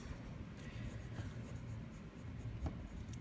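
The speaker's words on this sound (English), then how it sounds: "Lori, yes, these are Prismacolor pencils" Prismacolor colored pencil shading on Strathmore toned gray paper gives a steady, soft scratchy rubbing that runs throughout at close range, with faint strokes repeating and no talking.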